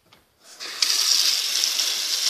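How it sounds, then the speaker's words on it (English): Kitchen sink faucet turned on and running with good pressure, a steady close rushing hiss of water starting after a brief faint clatter and continuing alone. "Faucet has good pressure."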